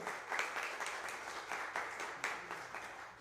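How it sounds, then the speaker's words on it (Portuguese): A conference audience applauds in a steady wash of clapping, fairly faint and distant, with a few louder swells across the few seconds. "eu peço, antes da mesa iniciar, logo uma salva de palmas"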